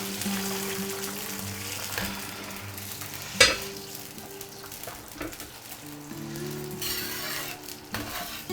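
Plain water goes into bean sauce sizzling in a pot over low heat while braised beef is being made. The frying hisses steadily and softly, with brief stirring clatter and a sharp clink partway through.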